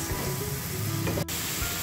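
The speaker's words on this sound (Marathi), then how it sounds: "कांदा झाला की मग आलं लसूण पेस्ट परतून घ्यायची आहे चांगली" Ginger garlic paste sautéing with onions for aloo matar fries with a steady sizzle, broken by a brief stirring clatter partway through; close and fairly loud, with no talk.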